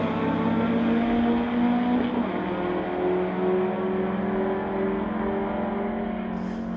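A drag race car at an NHRA Summit ET Series event launches on the green light, its engine roaring loud and steady with a strong low drone that holds for several seconds as the car pulls away.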